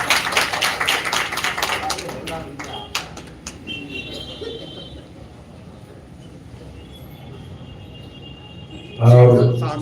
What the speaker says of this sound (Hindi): ताली बजाइए भाई सब लोग।